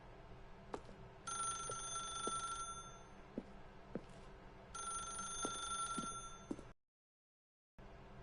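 A telephone in The Stanley Parable rings in two long electronic bursts, clear and fairly close, over a low room hum with soft ticks between rings, followed by a brief silence.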